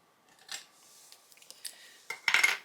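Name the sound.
scissors fussy cutting out a paper card piece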